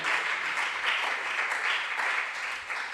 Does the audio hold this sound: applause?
yes